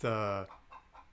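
A chicken gives a loud, harmonic squawk, as if laying an egg, followed by softer, quieter clucking in the background on rural land near the Buffalo National River.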